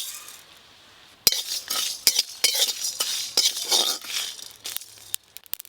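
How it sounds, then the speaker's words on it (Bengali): Whole coriander, cumin, fennel and dry chillies dry-roast in a pan. After a quiet second, a close run of scraping and rattling strokes sets the seeds clattering against the metal, ending in a few sharp clinks. "গোটা মশলাগুলো ভাজা হচ্ছে, কি সুন্দর আওয়াজ হচ্ছে দেখুন, পরপর করে"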